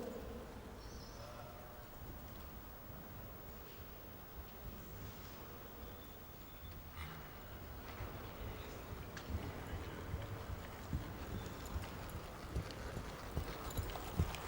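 Horse hooves clip-clop steadily at a working trot under saddle, a Friesian stallion in a dressage arena, the rhythmic beats fairly faint and even throughout, with insect buzzing and light outdoor ambience around them.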